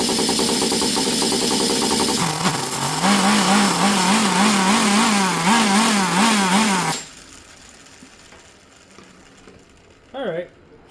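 A Traxxas T-Maxx nitro RC truck engine running, a loud, high buzzing whine that wavers in pitch for several seconds, then cuts off abruptly, followed by quiet and a brief chirp.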